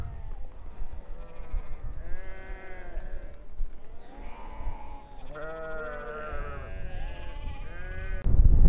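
Sheep bleating on barren, dry grazing land, several overlapping calls with wavering tones from near and mid distance, rising and falling across the flock, ending in a burst of low rumbling noise.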